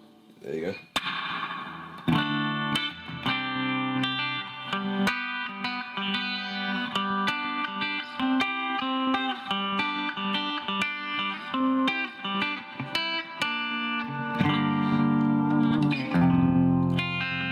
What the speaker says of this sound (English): Put a spring reverb on it, I think that'll sound really cool.